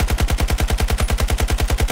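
Rapid automatic gunfire emptying a full magazine in the shooter game Battlefield 2042, a fast steady rhythm of about twenty evenly spaced shots over two seconds, loud and close with no talking.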